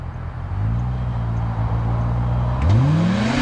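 Polaris RZR Pro R and Can-Am Maverick X3 Turbo RR side-by-sides drag racing on loose ground: a loud, steady engine drone holds, then climbs sharply in pitch as the machines accelerate hard near the end.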